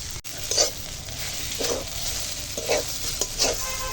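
Kochu shak (taro leaf greens) are stirred and cooked in a pan, with a steady sizzle under repeated scraping strokes of a spatula at a slow, even rhythm, close by and without speech.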